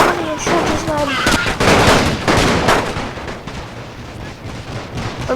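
Musket volleys in the Napoleon Total War video game, with repeated sharp cracks and ragged bursts of massed fire, loud up close, then thinning into scattered distant shots, while a voice talks over the battle.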